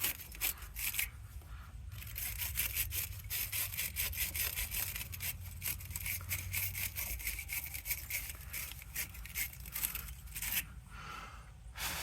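Car battery cable terminals on an F150 are scrubbed clean with a brush: quick, rhythmic scratchy strokes repeat steadily at close range, with no talking.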